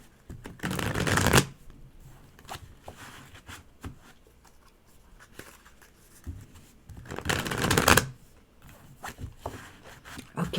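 Tarot cards are shuffled in two brisk riffling bursts, close and crisp, with quieter handling and light rustles in between.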